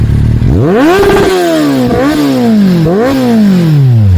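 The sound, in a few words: motorcycle riding past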